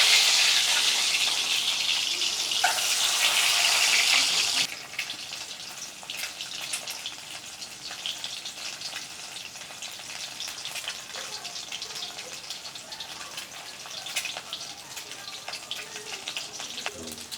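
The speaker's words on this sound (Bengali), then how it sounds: "এইটা আমি এখন আস্তে করে একটু হালকা লাল করে ভেজে নেবো। তেলের মধ্যে দিয়ে দিলাম।" Boiled eggs rubbed with salt and turmeric are dropped into hot oil, setting off a loud, hissing sizzle for a few seconds that then settles into a quieter, steady crackling fry.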